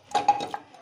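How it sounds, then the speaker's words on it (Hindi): A pressure cooker is set down on a gas stove, giving a quick, close metallic clank followed by a couple of short clinks. "ये कुकर रख लिया हमने गैस पे"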